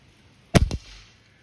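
A single RWS Model 34 .22 air rifle firing a Crosman Premier dome pellet, a sharp close crack with a quick second snap, then quiet.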